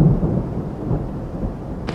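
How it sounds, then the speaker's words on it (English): Thunder rumbling low and heavy over a river during a canoe trip, with steady rain and hail pouring down, a brief sharper hiss at the very end. "It's pouring rain again, and actually hail."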